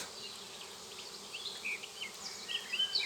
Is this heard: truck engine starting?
no